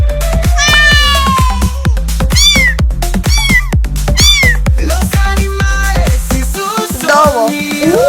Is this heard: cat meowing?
yes